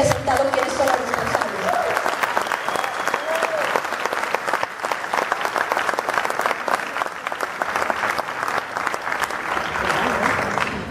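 Audience applause at a public forum in Mexico, a dense sustained clapping from a sizable crowd, loud and even throughout, opening with a brief bit of voice.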